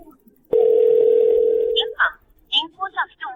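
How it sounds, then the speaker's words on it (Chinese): A telephone gives one long, steady electronic tone lasting over a second, then cuts off as voices begin talking nearby. "接电话"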